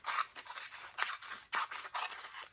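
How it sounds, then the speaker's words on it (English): Scissors snip through paper strips in a quiet room, a run of close, crisp cuts in an irregular rhythm with brief pauses between strokes. "I'm going to cut these all up."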